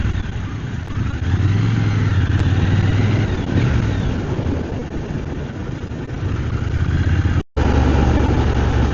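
A Triumph Scrambler 1200 X motorcycle engine revs loudly and close with its rev limiter removed. The pitch climbs and falls over several sustained pulls, with a brief dropout near the end before the roar returns.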